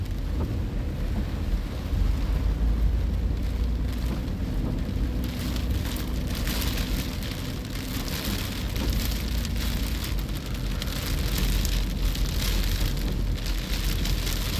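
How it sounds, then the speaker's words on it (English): Wind-driven rain storm on the Oregon coast at Yachats, steady heavy rain drumming on surfaces with gusting wind roaring throughout, loud and continuous with no voices. "You hear that wind?"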